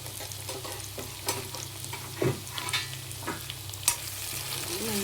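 Ginger garlic paste fries in a pan with drumsticks, giving a steady close sizzle broken by several sharp scrapes and clinks as the mixture is stirred.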